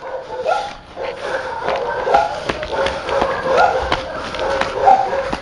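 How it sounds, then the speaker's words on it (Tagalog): A dog yelps and barks intermittently at mid distance over a noisy background, with faint voices, on a night street in Baguio. "Ayun yung aso."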